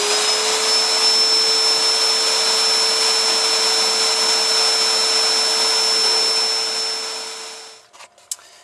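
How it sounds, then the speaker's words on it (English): A steady, loud vacuum cleaner drone with a high whine, sucking ash from a Harman PC45 pellet stove firebox, running continuously before cutting off near the end with a few clunks. "It helps if you have the vacuum going to kind of suck some of that dust out of there"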